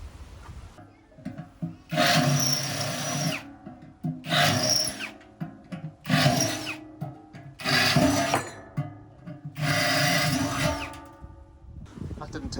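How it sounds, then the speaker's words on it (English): A power drill bores out a rivet from the inside of an Indesit Hotpoint tumble dryer. It runs in five loud, close bursts of a few seconds each, with short quiet pauses between them. "So I'm going to drill through from the inside."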